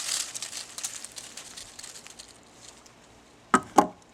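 A gloved hand rustles the leaves of a sunflower plant, followed by two sharp, close crunching snaps as the thick stalk is cut about 12 inches below the head.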